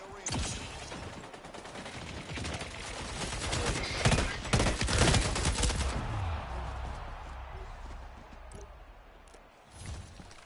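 Rapid bursts of power-weapon gunfire in an arena video game match, dense and loud for several seconds before tapering into quieter mechanical clatter and a final short burst.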